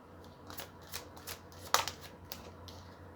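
Tarot cards shuffled in brief riffling bursts, a sharper snap near the middle, close and fairly quiet against a low steady hum.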